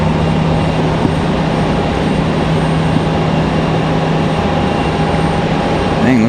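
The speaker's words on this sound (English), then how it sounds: "It's a nice arrival for American 1895 from Charlotte" American Airlines flight from Charlotte arriving at Raleigh-Durham airport, a steady loud broadband jet roar with a constant hum, sustained throughout without clear change.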